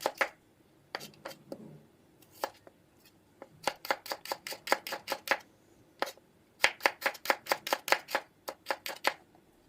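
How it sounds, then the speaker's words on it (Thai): A knife chops shallots on a board in quick bursts of sharp taps, several runs of rapid strokes separated by short pauses, close and clear. "หั่นไว้ เรื่อยๆค่ะ"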